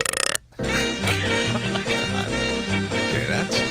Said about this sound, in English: why do you belch into the microphone?